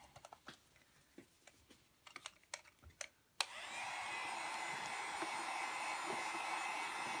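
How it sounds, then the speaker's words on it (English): A heat gun drying ink on a mixed media tag switches on after a few scattered taps and clicks, then blows with a steady, close, continuous hiss and whoosh to the end. "I'm going to grab out my heat gun."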